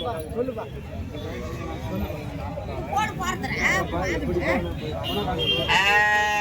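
Crowd chatter and babble fill the Orappam goat market, with a sheep bleating clearly near the end above the voices.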